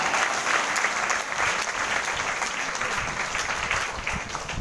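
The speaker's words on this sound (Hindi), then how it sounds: "जोरदार तालियां होनी चाहिए" A crowd claps steadily in a dense, continuous burst of applause, fairly loud and close, with no talking over it.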